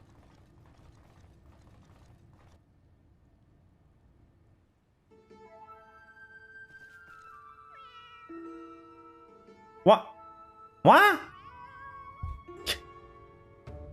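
Cats in Final Fantasy XIV Heavensward meow in a few short, sharp bursts among soft mechanical ratcheting and ambient tones, with a voice briefly speaking before them.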